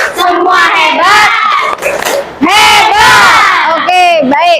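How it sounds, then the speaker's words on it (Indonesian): A classroom of Indonesian pupils shouts the 'tepuk hebat' clapping chant in unison, loud and close, with rhythmic group voices rising in bursts and claps faintly blended under the chanting. "Oke, ulang. Tepuk hebat."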